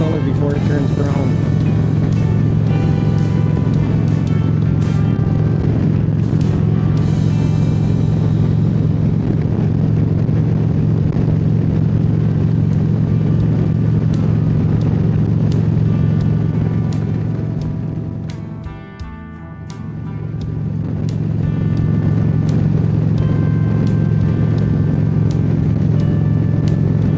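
A car cruising along a Texas road in springtime, with a steady low engine and road hum that briefly dips quieter before rising again, while a person talks over the drive.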